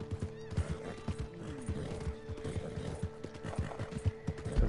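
Horse hooves clip-clop in a steady trotting rhythm while riding in the video game Red Dead Online, close and clear, with a brief whinny and faint background sounds.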